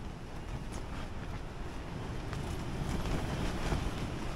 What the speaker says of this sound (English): We've got about 37-mile-an-hour gusts here.